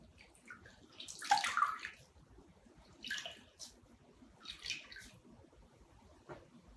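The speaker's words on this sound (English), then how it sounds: "you're going to take it out and just gently squeeze all the water out" Water splashing and dripping as soaked yarn is lifted from a dye soak and gently squeezed by hand, three faint bursts of trickling water in a quiet room.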